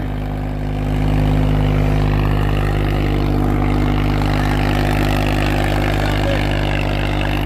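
New Swaraj tractor engine running steadily close by, a deep, continuous diesel drone with a strong low hum that swells slightly after the first second and holds constant, with no talking.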